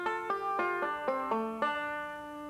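Banjo plucked in a rolling pattern across one chord, six bright picked notes ringing into each other at a steady, unhurried pace.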